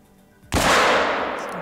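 A single loud Rhino 454 revolver shot cracks out in Hunter: Call of the Wild, a sharp close blast after near silence, followed by a long rolling echo that slowly fades.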